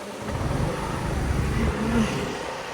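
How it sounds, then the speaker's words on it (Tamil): A car passes on a road near a temple tank in Thirunallar, a close engine rumble swelling gently and then easing off. "இருங்க, வண்டி வருது நின்று."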